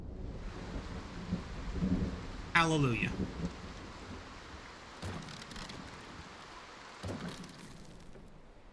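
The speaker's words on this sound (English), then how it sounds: "Oh, another storm." Thunder rumbles over steady rain during a storm in the medieval strategy game Bannerlord, with a loud crack a few seconds in and further rolls later, while someone talks and briefly sings over it.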